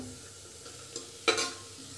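Masala with pavta beans frying in a pan, a low steady sizzle broken by a sharp stir scrape and a brief clatter near the middle.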